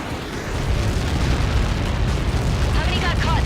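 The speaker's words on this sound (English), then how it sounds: "How many got caught in that explosion?" A massive blast from Helios projectiles in the air-combat video game Ace Combat 7 roars loud and sustained for several seconds, a dense rumbling wall of sound with faint radio voices near the end.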